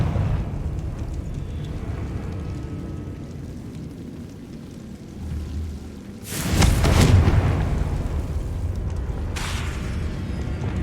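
A Confringo spell explosion in Hogwarts Legacy, a video game, bursts as a loud booming blast about midway, followed by a rumbling tail and a second fainter burst, over a steady ambient game background.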